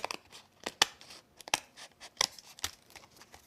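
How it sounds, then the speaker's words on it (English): Scissors snip repeatedly at close range through layered paper around a frame, a series of sharp crisp cuts at an uneven pace with a faint papery crinkle between them. "just go back in with our scissors, catching all the way under that piece there"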